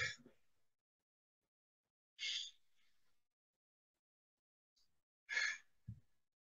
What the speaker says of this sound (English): close your eyes and inhale and exhale, breathe in and out